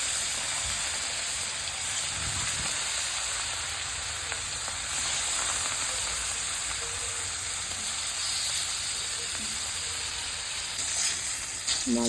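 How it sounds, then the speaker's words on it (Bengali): Katla fish pieces fry in hot mustard oil in a pan on a gas stove, giving a steady, dense sizzle that fills the whole stretch with fine crackling, with no talk over it. "মাছগুলোকে ভালো করে ফ্রাই করে নেব।"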